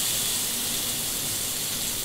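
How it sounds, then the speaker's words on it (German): Beef for tagliata sizzling in a very hot pan, a steady, dense hiss of frying meat that fills the whole moment without a break, loud and close with no voices over it. "die Pfanne hier ist schon sehr heiß und wir haben das Fleisch drauf."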